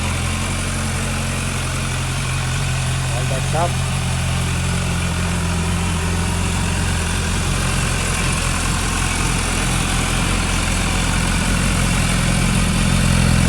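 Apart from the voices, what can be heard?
MV Agusta F4 RR motorcycle engine idling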